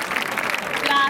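An audience applauds at the Miss Città Murata 2016 beauty pageant final as the presenter is handed a bouquet. The clapping is dense, steady and fairly loud, with a voice speaking over it throughout.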